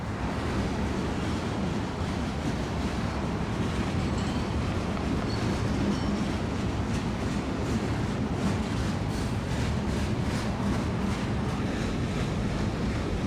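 A steady, loud rumbling roar of a BNSF mixed freight train rolling past close by at a grain terminal in Seattle, constant throughout with a faint rattling texture and no voices.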